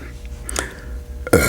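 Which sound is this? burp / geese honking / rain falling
burp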